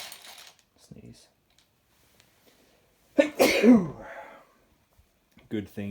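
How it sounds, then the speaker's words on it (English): A single sharp sneeze bursts out close by, preceded by a quick inhale, with faint talking before and after. "Sneeze."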